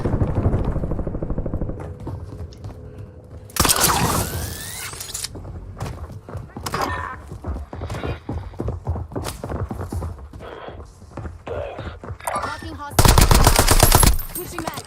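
Rapid automatic gunfire from the video game Warzone crackles in loud bursts, with a dense burst early on and another near the end, separated by scattered shots and clatter.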